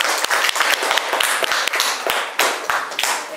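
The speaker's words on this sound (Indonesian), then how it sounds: "Ya, tepuk tangan." A classroom of students gives a short round of applause, a close, loud burst of sharp individual claps at an uneven rhythm, with no talking over it.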